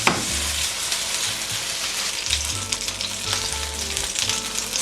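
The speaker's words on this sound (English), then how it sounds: "I'm going to add a bit of olive oil to the pan and get this on. Gonna add the salmon in." Vegan salmon fillet frying in olive oil in a hot pan, a steady close sizzle and crackle throughout with occasional louder spits and soft low thumps from the pan.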